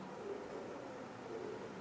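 Soft, low cooing from an imported teddy pigeon, faint and close, a few gentle repeated coos over a quiet background hum.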